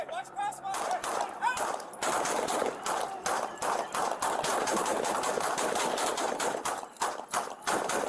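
Bursts of rapid gunfire, including AR rifle fire, crackle continuously, loud and dense, with shouting voices mixed in throughout.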